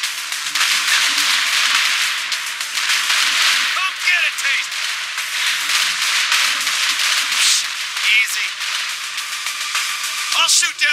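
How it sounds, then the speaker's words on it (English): Loud combat in the video game Saints Row IV with rapid bursts of cannon fire and whooshing rocket launches, dense and continuous, with a voice shouting over the barrage. "Launch rocket, fire main cannon."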